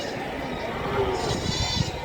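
Sheep and goats bleat among the bustle of a large rural livestock market in Ieeja, where buffaloes and bulls are also traded. Short, close bleats rise over steady crowd noise, with people talking throughout.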